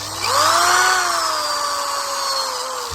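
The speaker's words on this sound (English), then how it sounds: "So I'm done with the drill." A power drill whirs steadily and loudly, its pitch rising at the start then holding with a slight droop, no voices.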